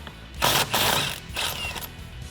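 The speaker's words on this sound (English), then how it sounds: "I'm going to use my impact gun here and just get that guy off." Impact gun with a 15/16 socket removing the steering wheel bolt on a 2015-2017 Mustang GT, two loud close rattling bursts of about half a second each, with no talk.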